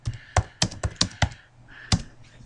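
Keys clack on a computer keyboard as a calculation is typed in, about seven distinct close, crisp strokes in an uneven burst with a short pause before a final key.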